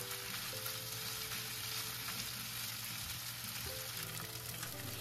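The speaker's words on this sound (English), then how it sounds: "Let them pan fry until the bottom is slightly brown." Beef pieces pan frying undisturbed in a hot pan, giving a continuous moderate sizzle and crackle with a faint tonal hum underneath and no talking.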